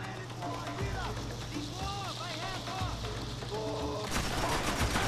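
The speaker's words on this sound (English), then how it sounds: "I pushed him away with bullets" Rapid gunfire in the game Max Payne 3, heard as a dense, continuous run of shots under a constant low drone, with a louder burst near the end and voices talking over it.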